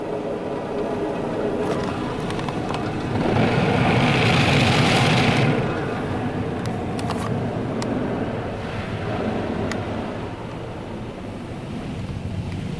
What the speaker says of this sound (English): So that's the wheel scrubbers.